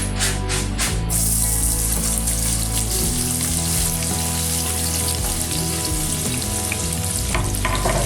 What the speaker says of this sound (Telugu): ఆనియన్స్ గోల్డెన్ కలర్ వచ్చినంత వరకు ఫ్రై చేసుకోవాలి